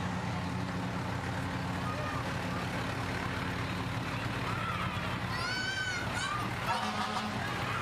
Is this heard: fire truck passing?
yes